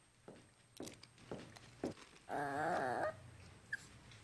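A dog in a Taco Bell television ad for chili cheese nachos Belgrande, several short barks or yips spaced across the clip, then a longer whining, howl-like cry near the end, fairly close and clear with no talking.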